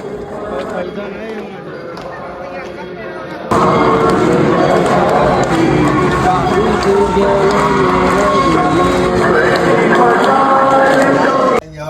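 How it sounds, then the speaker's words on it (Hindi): A large crowd of pilgrims at the Mehandipur Balaji temple fills the space with loud, dense noise and overlapping voices, swelling sharply partway through and staying loud to the end. "ये देखे क्या भीड़ आ रही है"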